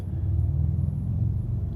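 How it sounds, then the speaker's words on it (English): A noisy car passes close by on the road, a deep, rumbling engine and road roar that holds steady for the short moment with no one talking. "After that noisy car goes by."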